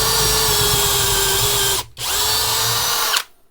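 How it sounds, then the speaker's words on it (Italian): A small 12V Parkside Performance cordless drill driver with detachable chuck whirs steadily at close range, stops briefly, then runs again before winding down. "questo piccolo avvitatore con mandrino separabile"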